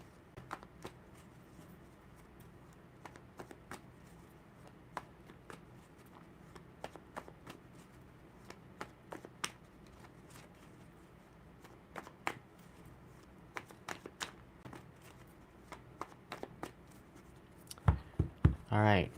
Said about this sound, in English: Give these a shuffle.